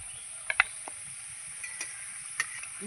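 Patties frying in a pan give a faint, steady sizzle, with a few soft clicks and scrapes scattered through it.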